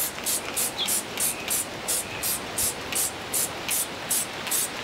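A hose sprays water to rinse down a Cruise Craft boat, the hissing spray pulsing in regular short bursts about three times a second, steady and fairly close, with no voices.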